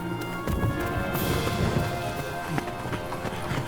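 Heavy rain falling during a thunderstorm near a barn and trees, a dense, steady hiss of drops hitting surfaces, close and loud throughout, with faint rumbles underneath and no clear speech.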